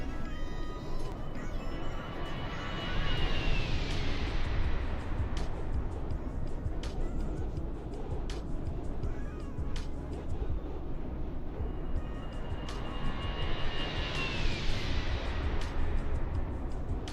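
Fenix A319 airliner passing by in Microsoft Flight Simulator 2020 near Paro airport, with a steady jet roar. Two rising-and-falling sweeps mark passes a few seconds apart, loud and continuous with no voices over it.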